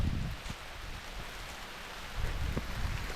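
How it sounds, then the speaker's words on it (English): Light rain begins falling outdoors during an October deer hunt in Ohio, a soft steady hiss of drops with occasional thumps and rustling close by. "It's kind of just starting to rain."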